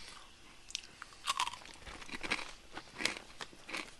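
Close crisp crunching from someone chewing brittle parmesan crisps, a series of sharp irregular crackles and bites.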